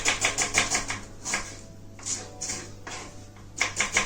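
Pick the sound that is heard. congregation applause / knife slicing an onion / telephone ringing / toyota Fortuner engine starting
knife slicing an onion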